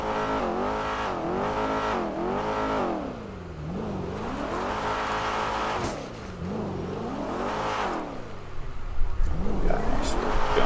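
Car engine revving in a video game, tuned by the driver, with repeated rising and falling rev sweeps in steady cycles, loud and close, ending in a rougher burst of throttle and possible tire noise.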